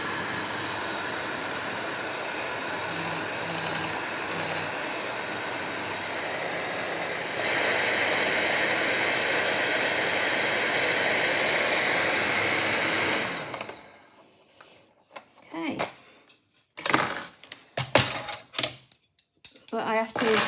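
A Tefal HT650E Power Mix Silence hand mixer runs with whisks, giving a steady, loud motor hum that steps up in intensity midway and then cuts off, followed by quieter clattering handling sounds.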